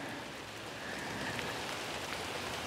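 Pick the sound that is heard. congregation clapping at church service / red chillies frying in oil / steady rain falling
steady rain falling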